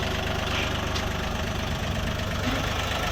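Shifeng 244 small tractor with wide tires and a two-cylinder engine idles nearby, a steady low rumbling chug with a throbbing knock that stays constant and fairly loud throughout.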